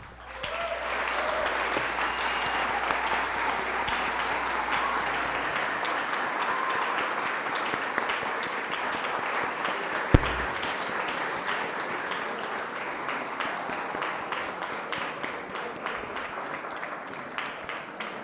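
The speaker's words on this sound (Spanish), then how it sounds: "Muchas gracias al compañero Fran Montero, de verdad que se merece otro aplauso su participación." An audience at an anniversary tribute event gives sustained applause, a dense, steady clatter of many hands lasting the whole span with a single sharp thump midway.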